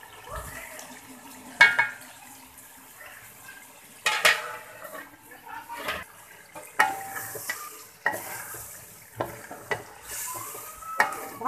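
Vegetables being stirred in a cooking pot with green chillies, a spoon scraping and clinking against the pot in irregular bursts over a soft steady sizzle.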